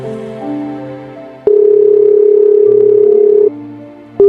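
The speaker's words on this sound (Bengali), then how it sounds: "ভাই এর ফোন তো বন্ধ কইতাছে" A phone call to a switched-off number gives a steady, unbroken telephone tone for about two seconds, loud and close over soft background music, then briefly returns at the end.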